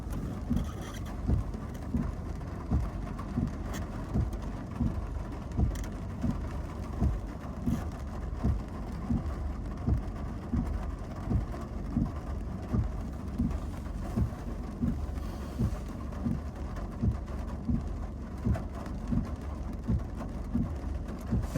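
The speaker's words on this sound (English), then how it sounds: "Can't even stop the wiper to get a clear clear view, but hey, it's raining." Rain falls steadily during a drive on a local route, a constant wash of noise with rhythmic thumps from the windshield wipers about once a second.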